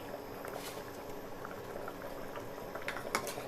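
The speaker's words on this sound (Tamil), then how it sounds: "சேர்த்துட்டு நல்லாவே இந்த அளவுக்கு கொதிச்சு வரணுங்க" Water at a steady rolling boil with mutton in a pressure cooker while cooker biryani is prepared, a continuous bubbling hiss with small pops throughout, close and fairly loud, with no voices.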